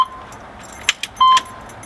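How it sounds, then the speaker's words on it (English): A key goes into the ignition of a 1991 Chevrolet K5 Blazer with a short metallic jingle, followed by a brief electronic chime tone from the dash, close and clear. "But as soon as I put the key in"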